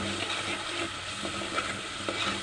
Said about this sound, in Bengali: ভাজি করে নেব, তাহলে পেঁয়াজের গন্ধ থাকবে না